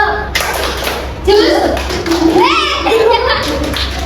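Children clap a rhythmic juice-themed hand-clap chant in a classroom, quick taps and claps mixed with young voices chanting and talking along.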